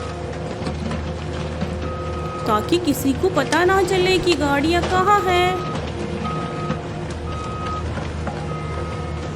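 A toy crane truck works at pulling other toy vehicles out of mud, giving off steady repeating reversing beeps with whirring, ratcheting mechanism noise midway, while someone talks over it.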